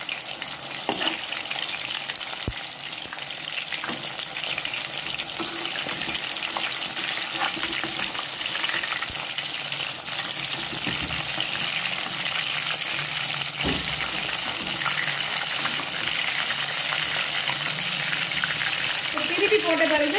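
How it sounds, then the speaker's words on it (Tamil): Fish frying in a pan after being flipped, a loud, steady sizzle of hot oil running continuously throughout, with faint background voices and occasional light clatter. "இப்போ நம்ம மீனை வந்து திருப்பி போட்டுக்கலாம்."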